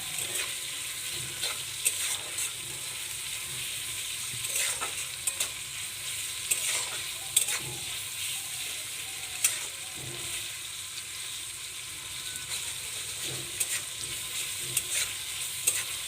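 Onions frying in a pan with salt added, a steady close sizzle under repeated scraping clicks of a spoon stirring them at an uneven rhythm.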